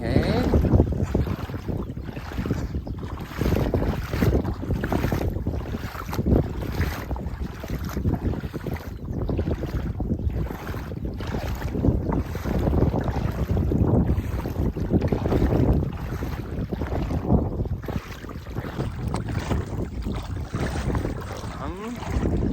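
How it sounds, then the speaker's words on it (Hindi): Crossing the shallow, flowing Tawa river: a continuous close rush and splash of moving water, heavily buffeted by wind for the whole stretch. "तो हम यहाँ से तवा नदी का प्रवाह पार कर रहे हैं"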